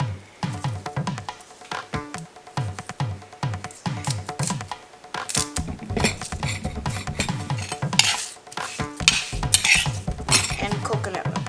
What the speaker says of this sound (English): Mix all together. Add curry leaves.